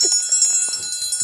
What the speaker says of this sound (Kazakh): Қоңырау соқты кеттік.